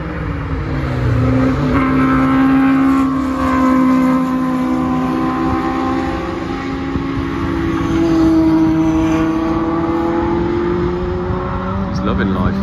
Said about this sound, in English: So, Issac is out again. And he does seem to be going around all right